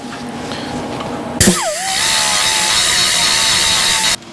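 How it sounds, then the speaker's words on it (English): A die grinder with a ball burr works metal: a sharp contact hit, then a high, steady whine that holds for a few seconds before it cuts off abruptly. "now I just take a die grinder and finish her off. Just a ball burr"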